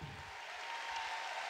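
Audience applause at a church gathering in Resistencia, Chaco, a steady dense wash of clapping that holds evenly throughout with no voices over it.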